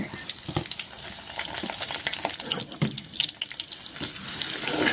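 Ginger garlic paste and cumin fry in hot oil with curry leaves for a Maharashtrian ridge gourd curry, giving a loud, dense, continuous crackling sizzle with no voices.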